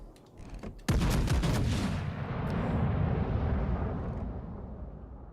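A single heavy boom of video game gunfire erupts after a brief lead-in, then a long rumbling roar that slowly decays over several seconds.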